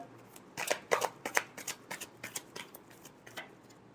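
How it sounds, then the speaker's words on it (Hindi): Tarot cards are shuffled close by in a rapid run of crisp slaps and flicks that gradually slows and softens toward the end. "Last shuffle."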